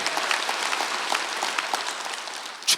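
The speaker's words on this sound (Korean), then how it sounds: "박수하세요" A church congregation clapping together during a Sunday worship service, a steady wash of applause at moderate volume that ends with a louder final burst.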